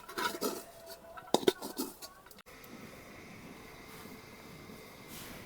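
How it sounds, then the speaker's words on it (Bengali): A heavy iron wok set down on a village stove gives a few sharp metallic clanks and scrapes over roughly two seconds, followed by a low steady hiss of the heating pan. "কড়াটা বসিয়ে দিলাম।"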